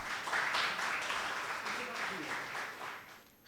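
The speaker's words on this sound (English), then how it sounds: "contestant number 4 with a huge round of applause." Audience applause welcoming contestant number 4 to the stage at a pre-final round talk competition, a steady broad wash of clapping from a room crowd that holds for a few seconds and stops abruptly.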